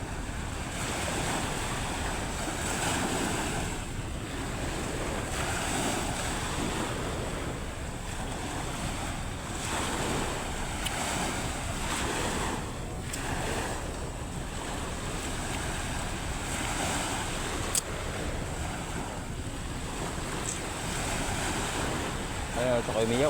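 Ocean waves washing ashore beside a fishing boat, a continuous broad roar of surf with surging swells and wind buffeting the microphone, faint voices now and then beneath.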